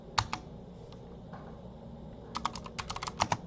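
A pgrep command is typed on a computer keyboard in two quick bursts of crisp key clicks separated by a quiet pause, close and clear with no talking.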